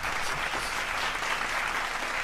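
Steady applause from a crowd, dense and even clapping sustained throughout at a fairly loud level, with no talk over it.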